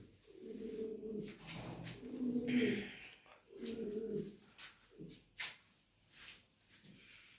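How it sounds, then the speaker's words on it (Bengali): Lahori pigeons coo softly and repeatedly in low, rolling bursts, fairly faint and close, with short pauses and a few light background knocks between the calls. "কবুতর রেস্ট নিতেছে ঘুমাইতেছে"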